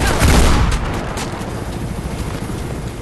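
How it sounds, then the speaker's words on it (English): Gunfire in the video game Mirror's Edge, a loud sharp burst of shots at the start that decays into a rumbling, echoing tail. "If you want to hold on to the weapon, you can fire off a few shots"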